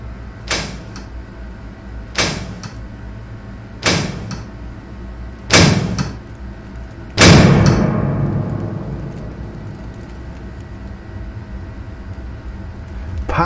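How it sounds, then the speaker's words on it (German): A locked door is rattled and banged in a run of five sharp, loud impacts spaced roughly every one and a half seconds, the last one heaviest with a long ringing decay, with no voices. "Panisch rüttelt ihr an der Tür"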